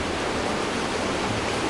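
Roaring rapids of the Nu River in southwestern China give a constant, even wash of rushing water, moderately loud and steady throughout, with no talking or other sounds on top.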